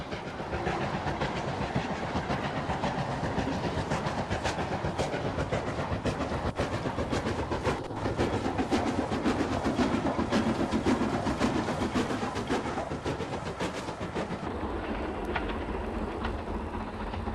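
An LMS Black Five steam locomotive hauls a train toward Marylebone, a dense continuous rumble and clatter of wheels on rail sustained at steady loudness throughout, heard fairly close from an overbridge, with no talking.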